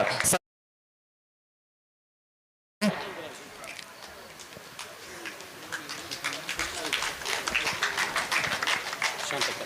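Crowd applause at a temple ceremony honouring a guest, a dense patter of many hands clapping steadily and growing slightly after a brief silent gap.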